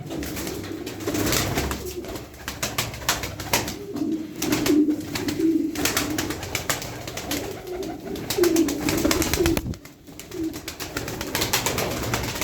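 Roller pigeons coo steadily in low, rolling calls, several birds overlapping continuously against a faint outdoor background.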